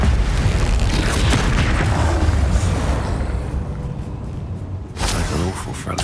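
Spell explosions in the video game Hogwarts Legacy boom heavily, loud rumbling blasts with crackling debris that fade before another burst near the end, under game audio.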